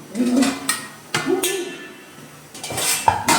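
A metal lid comes off a cooking pot with several clanks and scrapes of metal on metal, close and fairly loud, and a voice is heard briefly in between.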